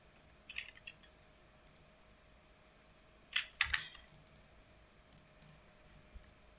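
Keystrokes on a computer keyboard as a command is typed in AutoCAD 2022 while drafting a house floor plan: quiet, crisp clicks in short scattered bursts with pauses between, no talking.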